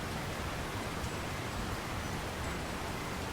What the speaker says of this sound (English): Who could live in a town where it's always raining?